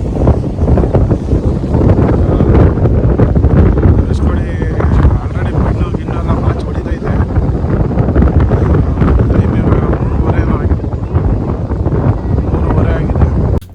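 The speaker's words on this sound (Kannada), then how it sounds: "ಸಿಕ್ಕಾಪಟ್ಟೆ ಗಾಳಿ ಇದೆ ಇವತ್ತು" Strong wind at Dhanushkodi buffets the microphone with a constant loud rumbling roar, gusting throughout, while voices are heard faintly underneath.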